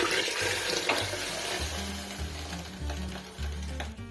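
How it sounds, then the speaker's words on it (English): Chicken broth and water pouring into a soup pot of wild rice soup with morel mushrooms, a steady splashing liquid stream over a sizzling pot, close and continuous. "Let's add our liquid, which is going to be our chicken broth and our water."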